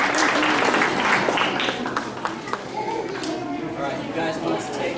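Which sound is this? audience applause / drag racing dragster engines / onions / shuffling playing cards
audience applause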